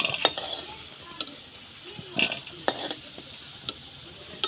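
Potatoes seasoned with turmeric fry in oil in a pan, with a low crackling sizzle broken by several sharp clinks and scrapes of a utensil stirring against the metal.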